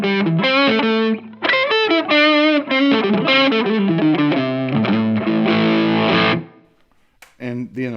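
An electric guitar played through stacked amp models and a distortion pedal gives a heavily overdriven, buzzing run of bends and sustained notes, loud and close, then fades into a brief pause before more distorted notes.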